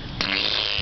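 A person at an Athens, Georgia music festival imitates a fart with the mouth: one brief, loud, buzzing raspberry that cuts in abruptly and holds steady to the end.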